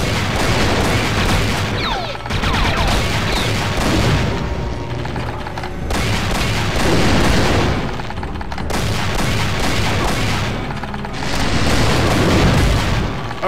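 A quad cannon in a Doom mod game fires in repeated heavy volleys, booming bursts of gunfire lasting about two seconds each and separated by brief gaps, loud and close throughout.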